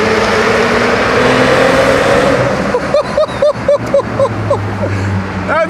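A V12 car engine with a modified exhaust, roaring loudly up close in a tunnel, then a rapid run of sharp crackling pops and bursts, with a voice briefly heard over it.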